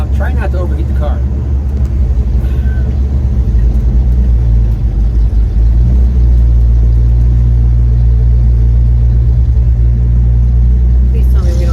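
A 1950 Cadillac rumbles through city traffic, its deep, steady engine drone loud and close inside the cabin, with occasional faint voices in the car.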